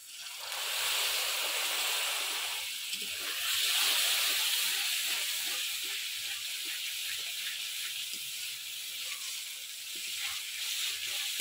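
Water poured into frying soybean masala in a hot pan, giving a steady broadband hiss and sizzle of steam that swells and then settles into a continuous fizz, close and fairly soft.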